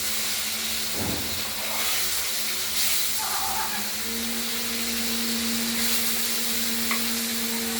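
Katla fish frying in oil in a pan, a steady broadband sizzle and hiss running continuously throughout, with a few faint kitchen clinks and a low hum beneath it, no voices.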